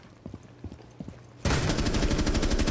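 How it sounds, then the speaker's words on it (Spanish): Automatic gunfire in Rainbow Six Siege erupts suddenly after a few quiet footstep-like taps, a loud rapid burst of shots continuing steadily to the end. "Disparos."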